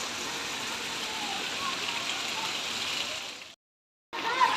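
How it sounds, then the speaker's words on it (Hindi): Heavy rain pours in a dense, steady hiss, broken by a brief cut to silence before the downpour resumes. "ये देखें, मूसलाधार बारिश, अल्लाह ताला की रहमत बरस रही है।"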